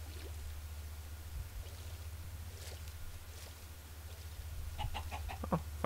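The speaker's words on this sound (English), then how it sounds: "Found more chickens." Chickens in a video game cluck in a few short, soft bursts near the end over a steady low hum, with no talking.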